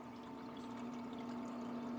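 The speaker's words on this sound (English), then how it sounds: "All right, pump's working. Everything's flowing." A small water pump runs steadily in a camp cooling-fan setup, giving a continuous low hum with flowing, trickling water layered over it, close and even throughout with no talking.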